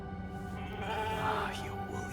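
Sheep bleating in the video game The Alters, a wavering animal call rising briefly over a steady bed of game ambience and music while someone talks over it.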